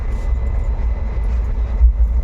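Inside a moving long-distance passenger train, a steady, dense low rumble of wheels and carriage runs throughout, with a couple of slightly heavier thumps near the end and no talk.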